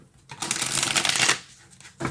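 A deck of tarot cards is shuffled close up in a quick riffle lasting about a second, followed by a brief second flutter of cards.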